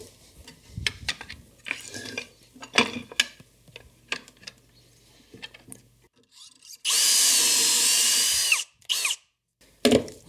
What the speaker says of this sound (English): I like to clear the fluting of the drill bit from once in a while, so it drills a little more easily and a little more smoothly